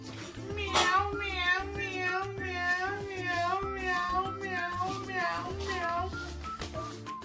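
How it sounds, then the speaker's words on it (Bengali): A domestic cat meows repeatedly and close by, its cries mixed with an adult and someone talking at home. "এই একটা ম্যাও"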